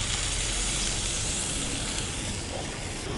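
Water left from pressure-cooking mutton is poured into a hot pan of mutton and green field bean curry, giving a continuous, loud, close hiss and sizzle that barely changes throughout.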